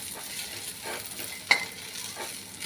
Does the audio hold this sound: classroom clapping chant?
no